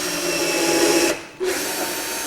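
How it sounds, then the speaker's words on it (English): An electric drill drives screws into a planter box board, whirring loudly and close, then cutting out briefly before spinning up again. "why don't I just show you how much easier it is to drill from above"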